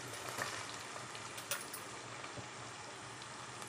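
Mint and coriander leaves roast in a hot pan for a chicken curry, giving a soft, steady sizzle and crackle, faint and continuous, with a couple of small clinks and no talking.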